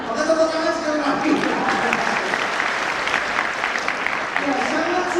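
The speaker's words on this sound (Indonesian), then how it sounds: "Maka tepuk tangan sekali lagi." A crowd claps steadily at a vocational pharmacy high school graduation ceremony in Jakarta, a dense sustained wash of applause lasting several seconds, with a voice audible near the start.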